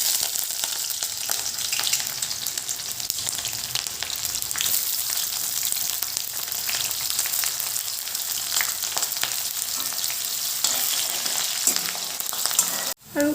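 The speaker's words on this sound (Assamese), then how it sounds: "এইখিনি তেলখিনি গৰম হৈ গ'ল এতিয়া দি দিওঁ পিঁয়াজ" Onions frying in hot oil for a local chicken curry, a steady dense sizzle running loud and close throughout, with a brief clatter near the end.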